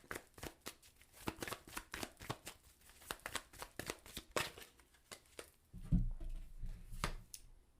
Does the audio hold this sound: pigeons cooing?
no